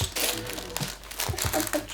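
A plastic bag holding small LEGO Minecraft pieces crinkles close up in a steady stream of rustles, with a few sharper crackles rising above it.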